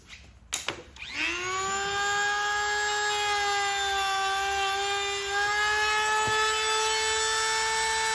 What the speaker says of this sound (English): we're gonna Dremel up those edges